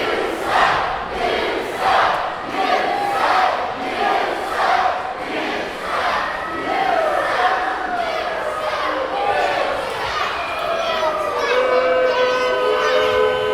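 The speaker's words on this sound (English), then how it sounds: "The crowd's behind Buff Bagwell." Wrestling crowd at a live independent show, loud and continuous, chanting in a steady repeated rhythm with cheers and whistles rising over the roar, filling the whole stretch.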